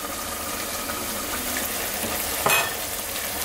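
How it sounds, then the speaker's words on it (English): A steady bubbling, sizzling sound from a pot of potato egg curry with tomatoes boiling, continuous throughout, with a brief louder burst of hissing near the end. "Get a lot of this steam out because it's boiling away."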